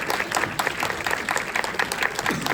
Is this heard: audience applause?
yes